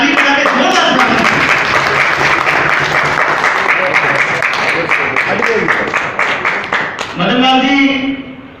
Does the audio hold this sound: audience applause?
yes